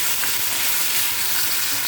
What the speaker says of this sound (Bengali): এটা এই যে ডিমের সাথে কষিয়ে দিই